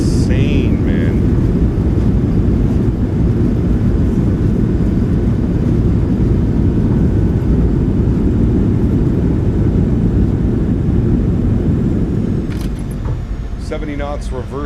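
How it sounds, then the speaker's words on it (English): Thrust reversers on a PMDG 737-700 in a flight simulator, decelerating after a windy landing: a loud, continuous jet roar that holds steady, then begins easing off near the end as voices come in. "Reversers are out. Decelerating."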